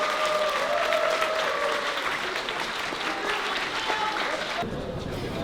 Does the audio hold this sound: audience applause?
yes